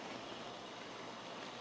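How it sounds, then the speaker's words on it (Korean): A pot of water at a steady rolling boil while squid is cooked for a spicy-sweet gochujang dried squid stir-fry, giving an even, close hiss and bubble with no talk over it. "자, 물이 끓습니다."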